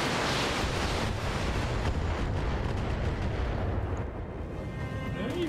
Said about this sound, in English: Oh, now the Panther gets to take even more missiles.